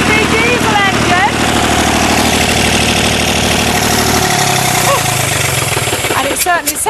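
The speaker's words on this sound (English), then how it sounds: "it certainly sounds like a diesel engine" A diesel engine running on algae fuel runs steadily with a low, rattling idle, then its pitch drops partway through; voices murmur faintly over the clatter.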